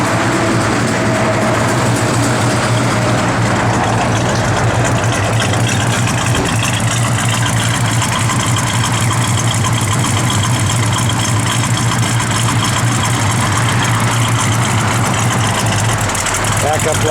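A 1972 Plymouth Road Runner with a brand new engine idles loud and steady, a constant low rumble throughout, with someone talking over it.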